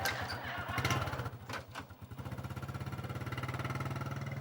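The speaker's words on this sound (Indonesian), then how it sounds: "Tadi lo nyuruh matiin motor, sekarang lo starterin." A motorcycle engine is cranked and catches, then settles into a steady, rhythmic idle that chugs close by, with no talking over it.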